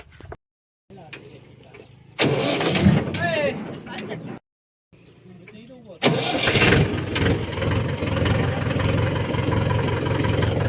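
A tractor engine cranks and catches after a short burst of noise and a silent gap, then settles into a loud, steady running rumble close by, with voices talking over parts of it.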